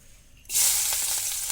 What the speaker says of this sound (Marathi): कढई तापलेली आहे आणि त्याच्यामध्ये तेल घालून घेऊया फोडणी मारूया